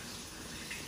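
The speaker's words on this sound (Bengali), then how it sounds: "ধুয়ে নিলাম এলাচি দারচিনি, তারপরে তেজপাতা কে ধুয়ে নিব আমি" Tap water running steadily while cardamom and cinnamon are rinsed for a home-cooked Eid sacrifice meat dish, a faint continuous wash lasting under a second.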